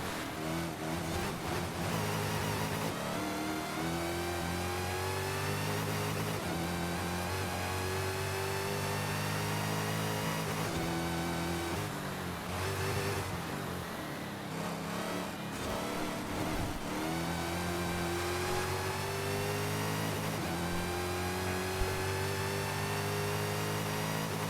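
A 2015 Dodge Charger Hellcat SRT revs hard in a racing video game, its engine droning steadily loud throughout with repeated upshifts and pitch climbs, no talk over it.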